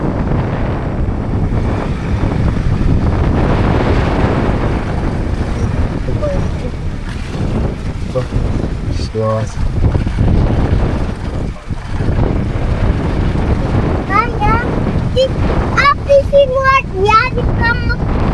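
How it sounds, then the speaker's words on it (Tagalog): Strong wind with light rain at a lakeside campsite in Cavinti, Laguna buffets the microphone in a steady broadband roar, with steady rain-like hiss and occasional faint birdlike chirps near the end. "ang lakas ng hangin na may kasama pang konting ulan"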